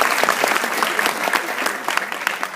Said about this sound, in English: so round of applause for him